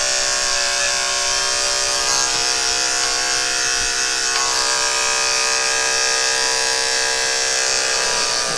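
Electric clippers buzz steadily as a Shih Tzu's belly is shaved, a close, continuous motor hum that holds at an even level throughout with no talking.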